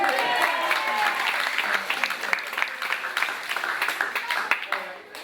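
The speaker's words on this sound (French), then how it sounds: "Oh, on applaudit" Dense clapping from an audience, steady at first then thinning into scattered claps, with voices mixed in underneath.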